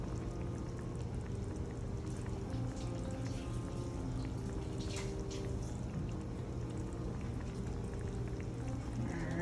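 Water runs steadily over hands at a kitchen sink while preparing salt mackerel rundown, a continuous close splashing wash with no talk.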